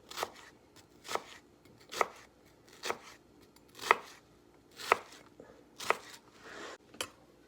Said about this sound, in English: I flip it on its side and then just chop it.